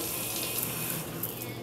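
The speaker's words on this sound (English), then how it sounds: "So you're going to damp the paper towel with water." Tap water runs in a steady stream to dampen paper towels for preserving rose petals, a continuous close hiss and splash with no voices.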